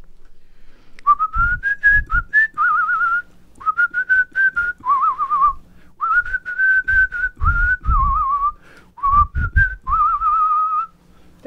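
A person whistles a melody solo, close and clear, in short phrases separated by pauses, with occasional breathy noises between phrases.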